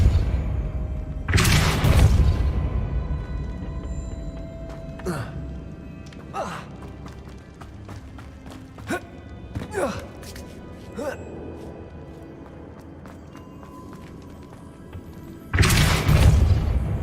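Depulso spell cast in Hogwarts Legacy, loud whooshing booms at the start and end with several sharper smaller impacts between, and a voice speaking over the game sounds.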